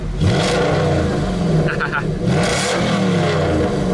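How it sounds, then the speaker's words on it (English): A Nissan GT-R starts up and revs with its exhaust valve open, giving loud, close throaty bursts of engine noise that rise and fall over a few seconds, with a voice talking underneath. "We start, we open the exhaust valve, because everybody likes a little bit of noise."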